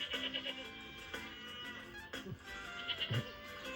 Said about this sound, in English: What's that noise? Oh look, they're goats.